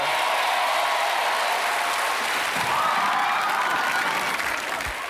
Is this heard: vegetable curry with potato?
no